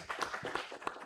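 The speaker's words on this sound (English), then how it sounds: "Okay, give applause." Audience applause after a presentation at a Falling Walls Lab event in Yogyakarta, Indonesia: a brief burst of steady, moderately distant clapping from a seated crowd, with no voices on top.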